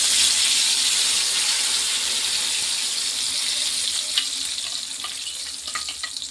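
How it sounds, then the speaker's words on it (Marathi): Masala spices sizzle in hot oil in a pan for a village-style mutton curry, a continuous bright hiss and crackle that eases slightly toward the end, with a few sharp pops. "टाकवतो मसाला तेलात"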